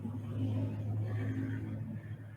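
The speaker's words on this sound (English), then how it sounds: "Wait till that car finishes going by." A car drives past outside with a low, muffled rumble that swells and then fades over a couple of seconds.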